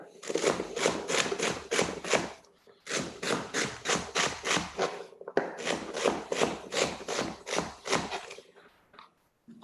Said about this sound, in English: Let's chop these up.